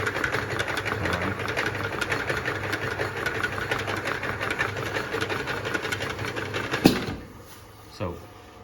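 A 150C bottle spinning machine runs with a steady rapid mechanical whir and rattle, close and constant, ending with a couple of sharp clunks as it stops.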